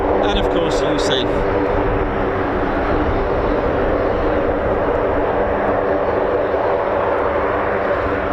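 A C-130 turboprop transport at RAF Mildenhall drones steadily overhead, a loud continuous engine rumble with a brief higher tone near the start and faint speech under the noise.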